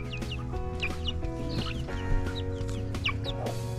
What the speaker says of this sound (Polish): Tutaj rośnie kogut.